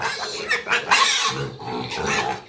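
Pigs on a farm, treated for diarrhea, squealing and crying in several loud overlapping bursts, harsh and close, with no talk over them.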